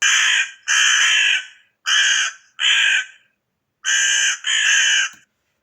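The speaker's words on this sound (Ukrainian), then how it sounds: "Це ворона." A played recording of a crow cawing, loud harsh calls in two quick pairs with a longer pause before a final double caw, clean and alone.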